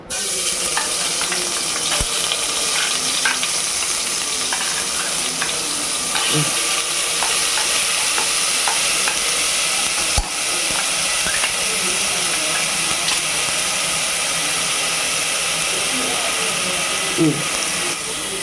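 A ground paste of ginger, fennel, pepper, garlic and poppy seed fries in hot oil for a liver fry, giving a steady, loud, continuous sizzle with occasional faint stirring scrapes throughout.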